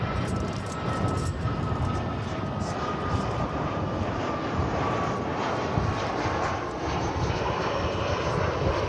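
An airliner at DFW Airport aborts its landing and goes around, its engines a loud, sustained jet roar that holds steady throughout.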